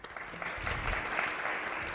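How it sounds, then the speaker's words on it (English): Scattered audience applause rises for the panelists at a startups panel, a brief, moderately quiet burst of many hands clapping in a room, lasting about two seconds. "We could have like one quick round of applause for them."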